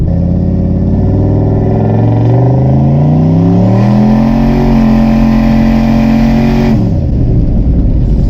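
A loud 1000-horsepower GMC Sierra pickup truck engine revs hard and climbs steadily in pitch, holds at a high roar, then drops off sharply near the end.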